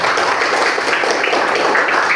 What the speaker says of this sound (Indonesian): Kasih tepuk tangannya dulu sama teman.